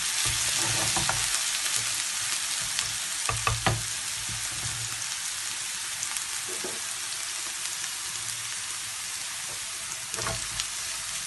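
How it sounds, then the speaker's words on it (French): Garlic fries in hot oil in a pan with a steady close sizzle, broken now and then by a few soft stirring knocks, and no voice is heard. "on fait revenir un petit peu dans de l'huile"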